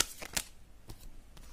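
Tarot cards are shuffled and drawn during a reading, heard as a few quick, close papery riffles and flicks, soft and brief, with no voice over them.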